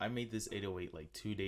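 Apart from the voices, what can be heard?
None of the usual background noises is heard.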